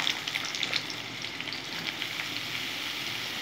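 Ridge gourd pieces frying in oil, a bright continuous sizzle with small crackles, steady and close with no voices.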